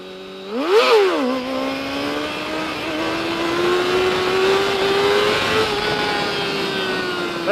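Motorcycle engine revving hard while the bike is pulled up into a wheelie, with a sharp throttle blip early on, then a loud, steady high-pitched drone that slowly rises in pitch as the throttle is held near the balance point.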